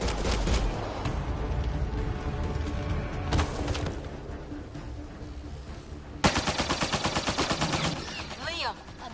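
Sustained automatic gunfire rattles through a firefight, with dense rapid bursts and booms continuing throughout and a sharper volley of regular shots near the end, loud and close amid general battle noise.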